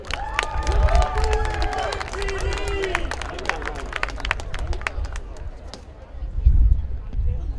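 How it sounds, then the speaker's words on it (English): Crowd at a college football game cheering and clapping in a stadium, a broad wash of applause and hubbub under a loud announcer's amplified voice, swelling again near the end. "Let's give him a round of applause, a little encouragement."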